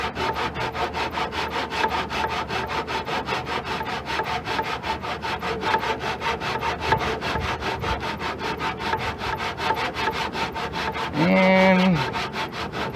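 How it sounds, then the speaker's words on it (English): A hand saw cuts wood trim in a miter box with steady, even back-and-forth strokes, close and loud, and a brief squeak near the end. "I love using miter box every once in a while"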